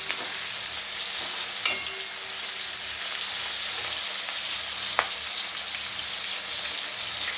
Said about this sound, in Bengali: মশলাপাতি দিয়ে দিয়েছি, কষা হচ্ছে